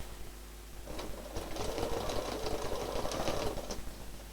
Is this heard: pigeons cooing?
no